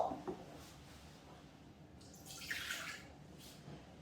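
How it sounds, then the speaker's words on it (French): Water, 200 g, poured into a bowl for brioche dough, a soft splashing trickle that swells briefly midway, quiet and close. "Donc on va commencer notre recette par déjà mettre nos 200 g d'eau"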